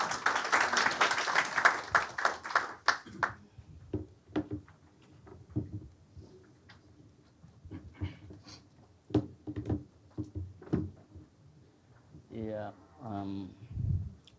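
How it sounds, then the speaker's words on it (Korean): Audience applause at a Korean global forum greets the first presenter, a burst of dense clapping for about three seconds, followed by quieter room sounds and talk. "박수로 맞이해 주시기 바랍니다."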